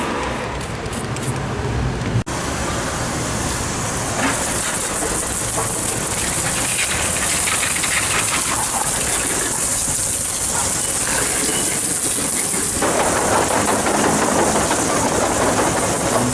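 Water spraying onto the engine bay of a VW Amarok during washing, a loud steady hiss and splatter up close that shifts in tone as the spray moves, cut by a short break early on.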